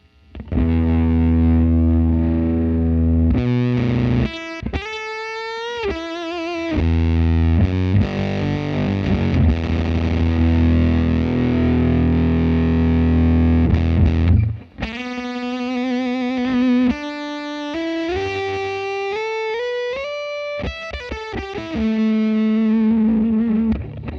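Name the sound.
fuzz guitar effects pedal with gate on low notes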